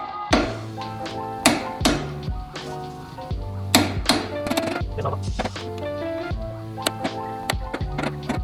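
Hammer blows strike a pry bar while a Miata wheel bearing is replaced, giving repeated sharp metallic clangs with ringing tones, several evenly spaced hits followed by a quicker cluster.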